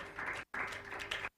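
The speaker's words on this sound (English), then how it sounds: "Let's clap hands for the coaches and all these participants, please." At a women entrepreneurs' event, an audience applauds coaches and participants with brief, fairly faint bursts of clapping split by two short gaps of near silence.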